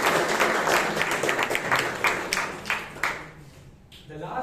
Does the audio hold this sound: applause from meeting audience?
yes